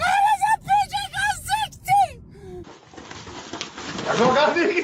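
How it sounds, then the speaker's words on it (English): A pigeon coos in a rhythmic series of about six or seven close, loud calls, then breaks off. Louder, noisy household commotion with voices follows. "It's a pigeon! How does a pigeon go"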